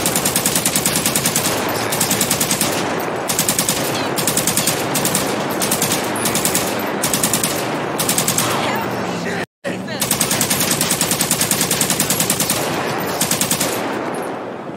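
A machine gun fitted with a 100-round drum magazine fires in the video game GTA V, with long sustained bursts split by brief gaps and one sharp cutoff, loud and close.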